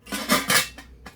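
A Hawkins sandwich-bottom stainless steel pressure cooker handled close by, giving a few metallic clanks and scrapes in quick succession, clear and alone.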